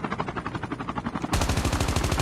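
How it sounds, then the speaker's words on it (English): Rapid automatic gunfire in the Call of Duty: Mobile battle royale, a fast rhythmic burst of shots that grows louder and harsher midway, heard alone without talk. "Skull Kid seems to be shooting back"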